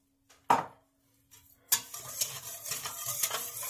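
Eggs and sugar being mixed in a bowl: one sharp tap early, then steady rhythmic whisking or stirring scrapes continuing close and clear until the end.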